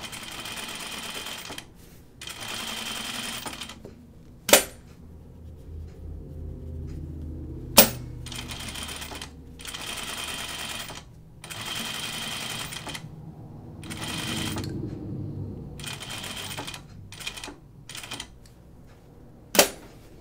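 A sewing machine stitching the collar stand of a button-up shirt: repeated bursts of rapid mechanical stitching, each lasting a second or two, separated by short pauses, with a few sharp clicks between runs, close and clear.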